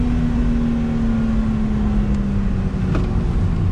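A 1994 Mitsubishi FTO, front-wheel drive on older tires, pulling out of a left-hand bend under throttle, its engine a loud, steady drone heard from inside the car, with a slowly shifting low hum.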